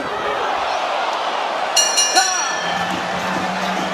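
Boxing crowd at a Terence Crawford vs Egidijus Kavaliauskas fight arena, a steady loud broadband murmur and buzz throughout, with a brief higher whoop or whistle swelling near the middle.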